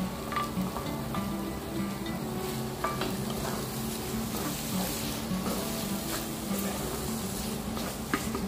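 Small chopped prawns tumble into a hot frying pan for an egg prawn frankie, giving a steady sizzle with repeated scraping stirs and clinks of the spatula, close and alone.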